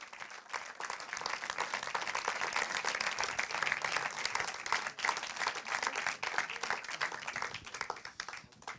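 Audience applause for composer Stephen Warbeck at a film music event, a dense, steady burst of many hands clapping throughout, sustained at an even level with a slight fade near the end.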